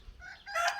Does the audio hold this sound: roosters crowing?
yes